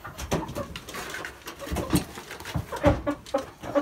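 Broiler chickens cluck and cackle up close in irregular short bursts, several birds overlapping with a faint barn background between calls.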